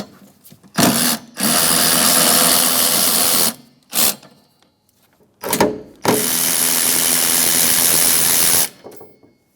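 An impact-style power tool loosens the 16 mm nuts on the wiper arms of a 2011-2017 Honda Odyssey, sounding in two long loud whirring bursts, each led by a short blip, close up with no talking.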